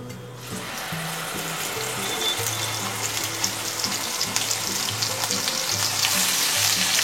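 Cloves, cinnamon and cardamom sizzle in hot oil and butter for Afghani paneer gravy, a steady close frying crackle with no talking.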